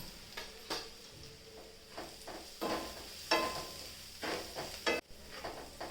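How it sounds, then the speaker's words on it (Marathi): Spices with coriander powder and a homemade masala are stirred in a pan with cooked umbar (cluster fig), the spoon scraping in irregular bursts over a quiet sizzle, close and fairly soft. "मसाले चांगले परतून घ्यायचे"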